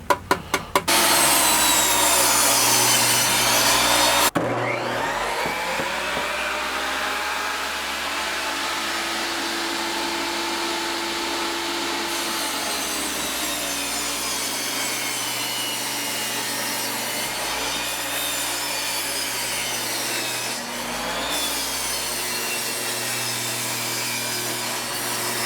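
Power saw rips through veneered plywood with a loud, continuous wooden rasp that carries on without pause, lightly shifting in pitch as the blade bites.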